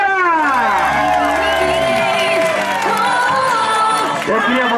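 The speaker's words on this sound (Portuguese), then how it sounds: "palmas para a galera!" Church congregation clapping and cheering, loud and close, with a sustained wash of whoops and shouting voices over the clapping.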